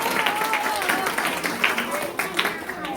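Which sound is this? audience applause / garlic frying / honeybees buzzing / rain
audience applause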